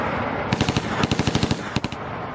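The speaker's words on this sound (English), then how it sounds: "Hall sprays the street with gunfire, hitting a number of people" Gangster spraying a street with gunfire from the back seat of a moving car in East Harlem, New York: rapid bursts of automatic gunshots, loud and close, in three quick volleys with no voices.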